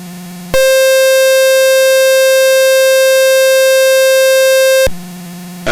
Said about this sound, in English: That's the alarm for the RPM. It should not ring at 2660.